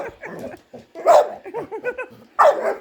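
A Staffordshire bull terrier barks and yips excitedly at a robot vacuum on a rug, several close, loud barks mixed with whimpering whines in an uneven burst.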